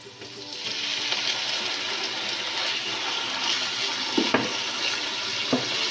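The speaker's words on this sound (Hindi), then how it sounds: "चिकन को भी हमने फ्राई करना है" Steady loud sizzling and crackling of chicken frying in a pan fills the whole stretch, with a couple of brief clatters near the end.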